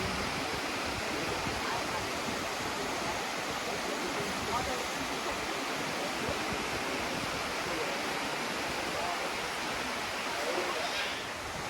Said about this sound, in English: 2 waterfalls.